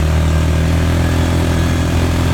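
An ATV engine runs loud and close through mud on a mountain trail near Jaco, Costa Rica, a steady rough low drone with no breaks or audible voices.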